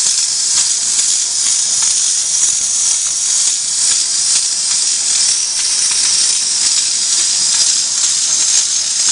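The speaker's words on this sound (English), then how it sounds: "you can see there it's steaming." An X5 H2O steam mop steaming after repair, giving a loud, continuous close-up hiss that holds steady throughout with no pauses.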